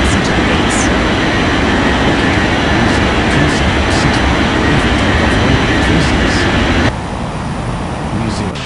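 Airplane taking off in the Unmatched Air Traffic Control game: a loud, broad engine roar with rushing noise that holds steady, then abruptly drops in level near the end.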